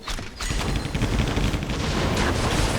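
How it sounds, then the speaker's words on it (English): Warcraft 3 mortar teams fire a steady, loud barrage of thudding artillery blasts, with rapid overlapping explosions and battle clatter filling the whole stretch with no voices. "It's at the front getting blasted down by the mortar teams"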